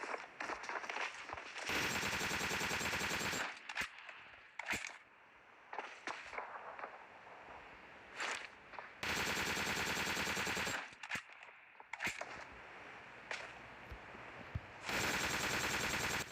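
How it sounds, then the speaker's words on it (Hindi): Gunfire in the video game PUBG: several loud sustained automatic bursts separated by single sharp shots, close and without talk. "हम यहाँ से फायर कर रहे थे"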